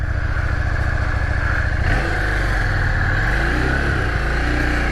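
Steady engine rumble from a Yamaha XVS650 Dragster cruiser motorcycle, loud and close, with a shift in engine note near the middle as it pulls away.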